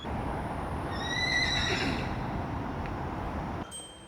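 A horse whinnies at a riding stable in Tokyo, one loud, wavering neigh lasting about a second over steady outdoor background noise, then the scene goes quieter.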